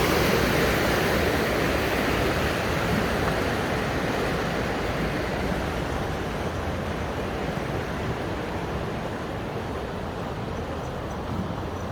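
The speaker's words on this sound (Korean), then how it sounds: "물소리가 시원하게 들리네요." A flowing stream beside a night walking trail in Wonju makes a constant, loud, broadband rushing wash that stays even and unbroken throughout.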